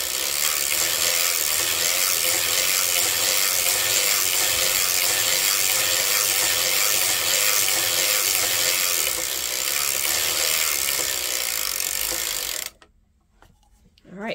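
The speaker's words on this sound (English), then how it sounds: "I'm gonna crank till I have enough to make a loop." Circular sock machine cranked steadily while knitting with yarn, a dense continuous clicking ratchet-like mechanical whir at close range for about twelve seconds, then stopping abruptly into near silence.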